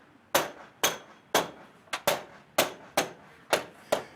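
Snap covers are tapped onto a CrimSafe window security screen in a run of about nine sharp, evenly spaced knocks, loud and near, with no voices.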